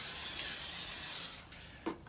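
Pam cooking spray hissing onto a Solo cup in a steady close burst that cuts off, followed by a faint knock.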